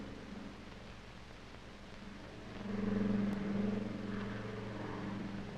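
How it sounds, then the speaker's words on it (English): A propeller airplane engine on an old educational film soundtrack, a low steady drone that swells louder in the middle and then eases off, set against a hissy background. "That's an airplane."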